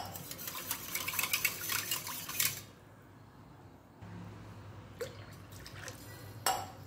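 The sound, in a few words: water poured into homemade curd to make buttermilk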